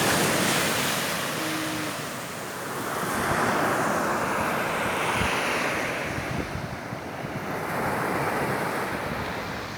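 Surf rolls onto a seaside beach in slow swelling surges, a loud, close roar of breaking waves mixed with gusty wind buffeting the microphone, and no one speaking.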